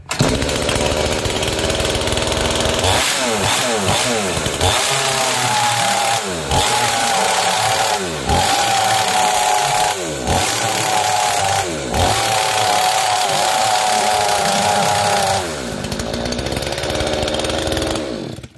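Petrol chainsaw engine under repair kicks into life and runs loudly close by, its buzzing two-stroke note rising and falling in repeated revs with brief dips and no talk over it.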